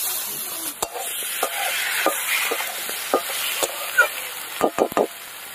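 Grated tomato stirred into a pan of frying potatoes and onions with turmeric, for a Bengali fish curry; a steady sizzle runs beneath a series of scraping spoon strokes that cluster near the end, with no talking.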